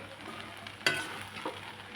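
A pan of Manchurian fried rice with coriander and spring onion sizzles softly as a spoon stirs it, with one sharp scrape of metal on the pan and a lighter knock later.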